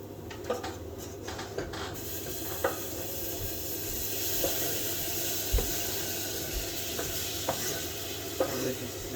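Burrito bowl ingredients stirred and scraped in a pan, with a steady soft sizzle and hiss under repeated light utensil clicks and scrapes, close by and fairly quiet.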